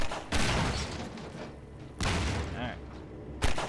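Sharp, booming gunshots from a gun in the first-person shooter Half-Life 2, three separate blasts spaced a second or more apart, with some talking heard between them.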